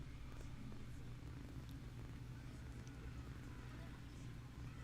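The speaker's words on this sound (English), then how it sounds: "I love your purring, buddy." Close, steady purring from a cat, a continuous low rumble running unbroken throughout, with someone speaking softly over it.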